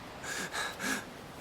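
A character in the video game Xenoblade Chronicles breathes in three short, close, soft gasping breaths, evenly spaced, with no other sound around them.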